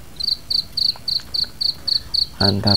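Crickets chirp in a steady, regular rhythm of about ten short pulsed bursts, close by a grapevine in a garden. A louder, croaky buzzing sound joins near the end.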